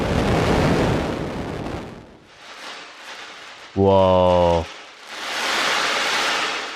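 Sonified X-ray data from a black hole 7,800 light-years away plays as a brief loud burst of stacked, pulsing tones lasting under a second, between stretches of rushing noise, with a voice exclaiming just before.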